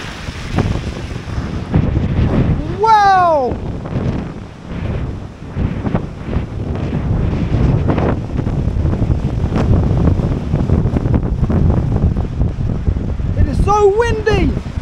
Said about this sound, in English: It is quite windy and so on.